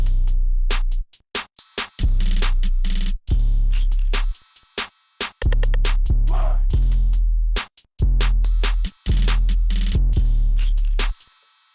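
A full trap beat drum pattern with booming 808 bass, punchy kicks, snares and rapid hi-hat rolls plays loud and dense with brief drop-outs between phrases, no talking over it.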